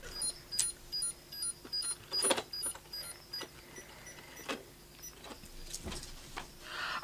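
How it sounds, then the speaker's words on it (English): A Digimon 20th anniversary virtual pet emits thin, faint, repeated electronic beeps at a steady pace, mixed with small clicks and handling noises nearby. "they beep, and then their screen turns back on when they're needing attention"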